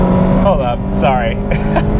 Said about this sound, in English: A red RF just flew by me.